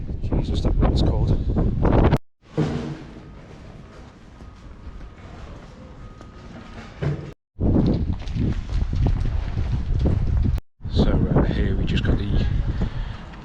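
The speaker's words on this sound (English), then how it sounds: "that wind's a bit Baltic" Bitter cold wind buffets the microphone in a snowy Czech mining town, a heavy low roar broken by brief cutoffs, with people talking over it at times.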